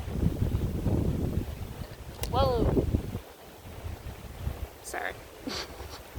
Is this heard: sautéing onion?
no